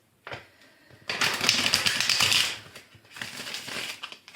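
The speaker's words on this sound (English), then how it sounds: "One more shuffle." Deck of tarot cards being shuffled close up, with a brief riffle followed by a longer loud crisp flurry of flapping and snapping cards, then another shorter burst.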